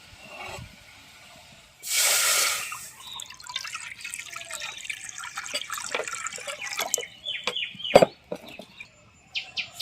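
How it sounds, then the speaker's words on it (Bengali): Water is poured into a wok to make sugar syrup for a kalojam sweet, a brief loud rushing pour followed by scattered drips, light splashes and clinks close by, with no talking. "বন্ধুরা, আমি কড়াইতে শিরার জন্য পানি দিয়ে দেব"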